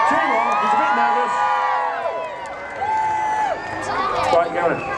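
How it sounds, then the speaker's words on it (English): A crowd at the Birdman event in Ilfracombe cheers and whoops loudly, with children's high-pitched shouts rising and falling in waves that go on without a break and stay close and lively. "Go on then, start cheering, start cheering."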